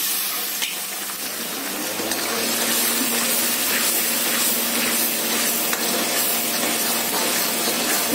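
A dal makhani mixture sautéing in a pan, a continuous close sizzle and hiss that grows slightly louder, with faint scraping from stirring.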